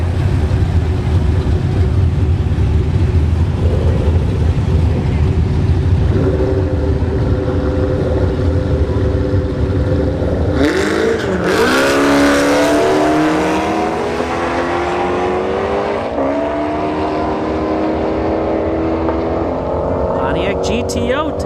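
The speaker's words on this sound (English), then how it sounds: "Pontiac GTO versus Evo 10." A Pontiac GTO and a Mitsubishi Evo 10 drag race at a dragstrip test-and-tune session: a loud, sustained engine drone, then sharp revving and rising acceleration as the cars launch, with an announcer talking over the noise.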